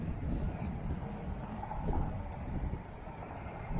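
Wind gusts buffet the microphone outdoors during bait-finesse fishing, a low, steady roaring rush that rises and falls, fairly faint and with no talking.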